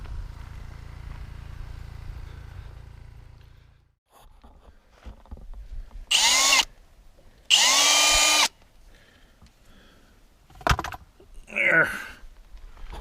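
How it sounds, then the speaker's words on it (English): Two bursts of power drill whirring, each about a second long, rising in pitch as they spin up, followed by a few lighter mechanical clicks and rattles. "that's how I used to drill"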